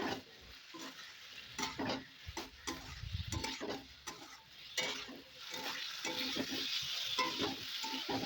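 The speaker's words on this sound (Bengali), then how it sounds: "এবার এর মধ্যে ভেজে রাখা আলু আর ভেন্ডিটা দিয়ে দেব, দিয়ে ভালোভাবে মশলার সাথে সবজিটা ভালোভাবে মিশিয়ে নেব।" Fried potatoes and okra are stirred into a spice masala in a pan, giving irregular scraping and clattering strokes over a soft sizzle, close and uneven in loudness, with no talking.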